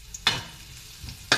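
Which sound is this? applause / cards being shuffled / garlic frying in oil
garlic frying in oil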